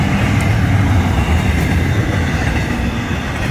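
A Florida East Coast Railway train, FEC 107, rumbles past close by with a steady, loud roar of wheels and cars throughout.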